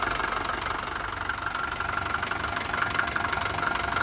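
The 2.2-litre OM601 diesel engine of a Mercedes-Benz 190D W201 idles steadily up close, its loud, even knocking rumble continuing without a break.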